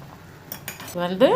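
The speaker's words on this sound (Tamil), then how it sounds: "நல்லா கிண்டி மூடி விடுங்க." A spoon clinks and scrapes against a metal pot of boiling manathakkali (black nightshade) greens soup a few times before a voice starts speaking.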